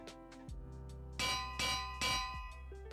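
A bell rings in a video game: three loud, bright clangs in steady succession over a constant tonal drone. No voices.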